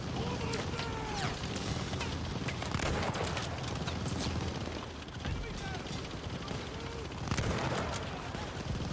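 Dense, continuous gunfire from machine gun nests near half-tracks in Call of Duty: Vanguard, a busy battlefield wash of rapid shots and distant blasts running steadily throughout, with shouted voices mixed in.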